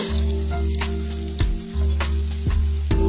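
Peppers and chopped onions sizzle steadily in a hot pan for a ratatouille, broken every half second or so by the clunks and scrapes of stirring, close and fairly loud with no talking.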